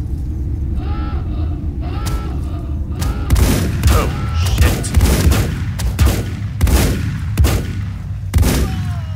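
Robots fire guns in the survival game Volcanoids, loud bursts of gunfire and booms stacking over a constant rumbling din, several sharp volleys hitting in quick succession with no talk.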